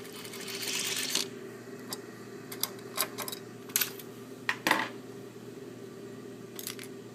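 A sewing machine whirs in a steady burst while sewing a zipper, followed by several short, quick bursts of stitching separated by pauses, close and moderately loud.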